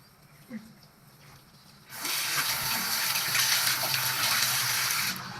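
A bathroom tap opens and water runs steadily into a sink for face washing, a close, even rushing stream lasting about three seconds before easing off.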